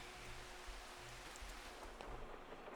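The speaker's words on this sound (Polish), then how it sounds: "Już mam dosyć tego deszczu." Rain in the farming video game Farming Simulator 25, a faint, steady hiss of falling rain with low rumbling underneath, continuous and distant-sounding, no speech.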